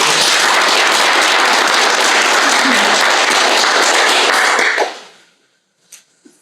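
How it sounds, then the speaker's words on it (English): Loud, dense applause from an audience at a city council meeting fills nearly five seconds, then cuts off sharply, leaving near silence with a faint knock or two afterward. "That deserves a big round of applause."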